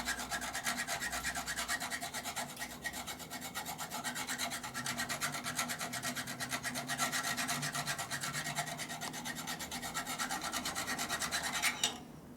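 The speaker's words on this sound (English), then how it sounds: "It's hard to file stuff flat." A hand file rasps over a worn brake pedal part from a 1942 Harley-Davidson WLA 45 motorcycle, with steady, even back-and-forth strokes that run close and uninterrupted for about twelve seconds before stopping.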